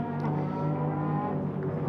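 A Lotus race car at Silverstone roars around the Luffield corner, its engine holding a loud, close, harmonic-rich tone with a slight rise and fall in revs over a couple of seconds.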